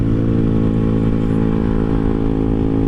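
A Honda CBR motorcycle engine drones steadily and loudly at close range, holding an even, continuous hum with no speech over it.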